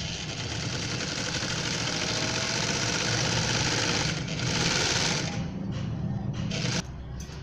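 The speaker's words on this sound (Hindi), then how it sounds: "सिरे की सिलाई लगाएं।" A sewing machine runs steadily, stitching an edge seam along an ironed neckline strip on an off-white baby frock, a continuous close mechanical hum that changes briefly in the last seconds.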